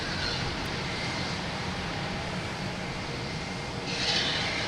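Delta airliner rolling on runway 15 right at Boston Logan Airport at night, a steady broad jet roar heard from a distance that holds level and swells slightly near the end.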